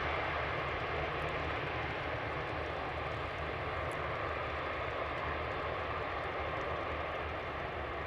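A jet airliner arriving at Amsterdam Schiphol Airport: a steady, broad engine roar that stays loud and continuous throughout, with no voices.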